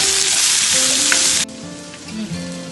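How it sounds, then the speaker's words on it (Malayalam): Thinly sliced shallots fry in hot oil in a pan, giving a loud, steady, close sizzle that drops suddenly to a quieter, softer crackle partway through. "നീരുള്ളി നേർങ്ങനെ മുറിച്ച് വാട്ടാൻ വേണ്ടിയിട്ട് 3 എണ്ണം."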